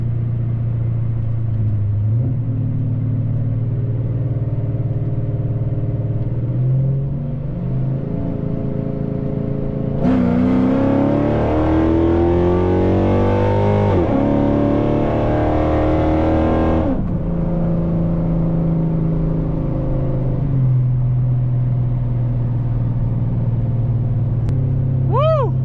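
Dodge Challenger SRT8 fitted with an SLP Loudmouth exhaust, idling with a deep burbling rumble before a 40 roll, when the engine swells into a loud, rising roar climbing through the revs for several seconds, then drops back to a steady low idle.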